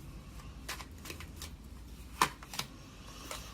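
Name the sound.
tarot cards being shuffled and drawn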